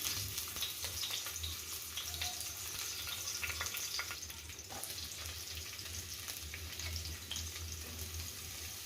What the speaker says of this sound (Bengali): রসুন কুচিটা একটু ভেজে নিয়ে এখানে দিয়ে দিচ্ছি আমি পেঁয়াজ কুচি কাঁচামরিচ কুচি